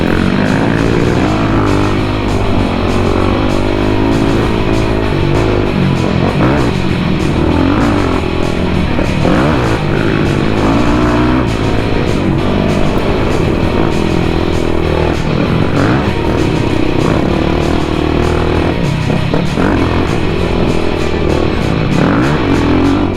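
A motocross motorcycle ridden at speed on dirt trails gives loud, sustained engine roar with wavering pitch as the throttle shifts, plus rattling and wind buffeting throughout.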